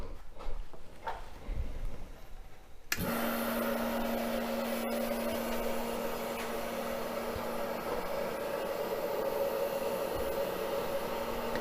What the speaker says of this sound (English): So I'm turning the vacuum on.